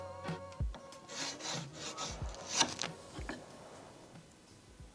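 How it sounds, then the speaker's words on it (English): Pencil tracing around a template laid on a piece of scrap wood in a small workshop: close scratchy rubbing strokes in short irregular passes, with a couple of light knocks and no talking. "I'm just gonna line it up to my piece of wood, and I'm gonna trace it."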